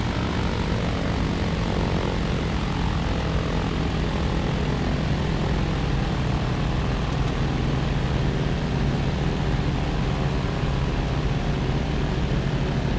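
A propeller-driven airplane drones steadily through the landing pattern, its engine a continuous, fairly close hum with a broad roar that holds even for the whole stretch, with no talk over it.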